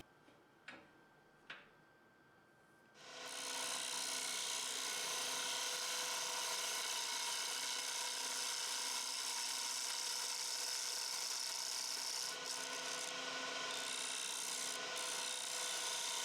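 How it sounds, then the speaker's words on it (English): A freshly sharpened ball gouge makes soft, deliberate cuts along the wall of a maple and mahogany box on a wood lathe. A couple of faint taps come first, then a continuous loud hissing scrape runs unbroken to the end. "I use a freshly sharpened ball gouge with deliberate and soft cuts to even the wall"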